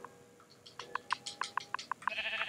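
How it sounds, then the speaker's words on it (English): Repeated sheep bleats from the Minecraft video game, a series of about eight short, evenly spaced cries at moderate volume with no talk over them, followed by a brief burst of brighter noise at the end. "oh, I heard a sheep."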